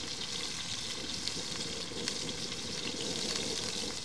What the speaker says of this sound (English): I'm gonna let that sear for another 5 minutes too